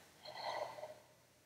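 A person breathes out deeply during a guided breathing exercise, one soft, airy exhale swelling and fading over about a second, close and quiet with no talk.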